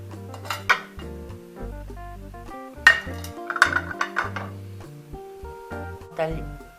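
Transparent glass plates and metal cutlery are set out on a table. They clink and knock close by in irregular bursts with pauses between them, and a voice talks over part of it.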